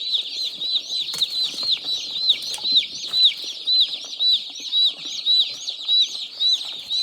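Newly arrived meat-bird chicks on a farm chirp nonstop in rapid, high, repeating peeps, close and lively, with faint rustling beneath.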